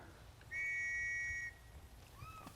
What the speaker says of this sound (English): You were there before I whistled, buddy.